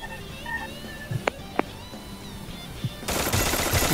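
Gunfire in a shooting video game: a few isolated sharp shots, then a dense burst of rapid automatic fire that carries on to the end, loud and close.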